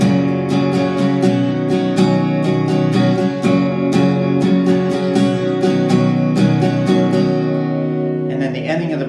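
A guitar plays the intro and verse of a song, steady strummed chords ringing out loud and close, ending in a final softer flourish.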